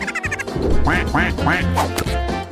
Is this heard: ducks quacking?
yes